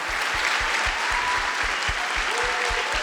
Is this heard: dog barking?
no